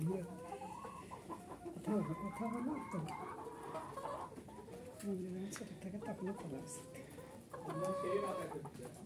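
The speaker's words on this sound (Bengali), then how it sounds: "দেখছেন মোরগটা কিন্তু মধ্যমণি" A small backyard flock of about two dozen hens and one rooster clucks and murmurs continuously at moderate distance, with people talking quietly in the background.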